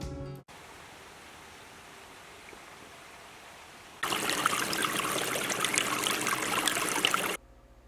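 Small gravity-fed creek trickling and streaming steadily, a soft broadband wash that swells noticeably louder for the second half before dropping away; no voices.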